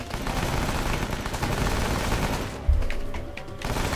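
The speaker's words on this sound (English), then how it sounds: "I hear people shooting guns." Gunfire from Rambo: The Video Game, dense rattling shots blended with a continuous game soundscape, plus a single heavier thump near the end.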